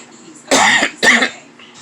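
Two sharp, close coughs come from a person, spaced about half a second apart, followed by quiet.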